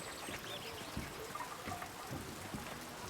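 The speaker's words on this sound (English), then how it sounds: "Andreas, stay out of the rain, as I stand directly in the rain" Steady rain in the medieval video game Pentiment patters and trickles on surfaces, a soft, continuous wash with occasional faint drips, quiet and without speech.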